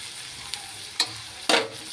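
Bitter gourd pieces frying in hot oil in a pan give a steady sizzle, broken by a few sharp bursts of spatter as they are stirred. The sound is close, with no voices.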